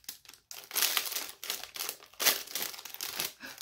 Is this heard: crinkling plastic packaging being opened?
yes